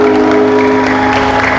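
Clapping from a congregation during a church worship service, a dense, loud and continuous round of applause filling the room, with a steady tone underneath and no clear speech.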